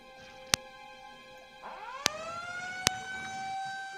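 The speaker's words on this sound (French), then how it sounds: "vous voyez donc une ambulance arriver là" An ambulance siren rises in pitch with a sweeping wail partway through and continues for several seconds, mid-distance over a quiet background, with a few sharp clicks.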